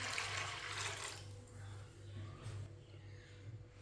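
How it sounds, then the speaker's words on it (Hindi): Water pours from a glass into washed chana dal in a wok, a splashing rush that is strongest at the start and then trails off into quieter trickling over a low hum. "अब इसमें पानी डाल लेंगे।"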